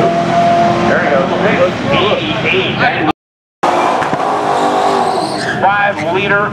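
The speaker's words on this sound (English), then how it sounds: "5-liter Mustang." A 5-liter Ford Mustang race car roars past at a racing event with a loud engine and tire noise, then more car noise follows after a brief dropout.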